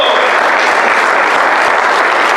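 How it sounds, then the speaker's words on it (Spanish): A church congregation bursts into loud, sustained applause, a dense wash of clapping hands filling the room without a break. "adora al Señor en un aplauso"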